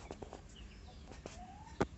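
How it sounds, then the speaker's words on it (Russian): Young chicks and a young rooster in a backyard garden cluck and peep faintly in a few short scattered calls, with one sharper cluck near the end over quiet outdoor background. "вот это уже наши цыплята"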